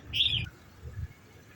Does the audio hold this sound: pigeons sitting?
yes